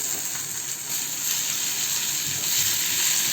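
Sliced tomato and onion frying in a pan over medium gas, a steady bright sizzle running continuously at close range with no talking.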